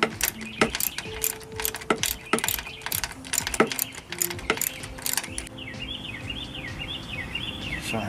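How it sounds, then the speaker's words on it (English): A hand ratchet working a radiator bolt on a 2000 Pontiac Bonneville: irregular bursts of sharp metallic clicks and ticks, near and moderately loud, over a faint background hum. "it's just a matter of using your fingers and a ratchet until you actually get it out"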